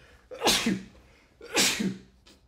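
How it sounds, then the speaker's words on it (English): Two close, sharp human sneezes about a second apart, each with a quick breathy intake and a burst, followed by a faint trailing sound in a quiet room. "I was sneezing"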